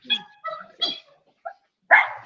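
Dogs bark in five short, separate bursts with brief gaps between them, fairly close and loud, with no one talking over them.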